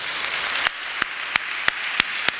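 Church congregation at a Sunday worship service clapping in slow, evenly spaced single claps over a constant wash of crowd noise, fairly loud and close, with no speech.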